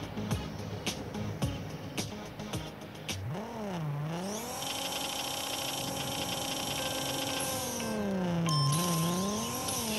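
A 2011 Subaru WRX STI races in Racing Rivals, its engine revving up through rising and falling gear pitches with quick shifts, steady and moderately loud throughout.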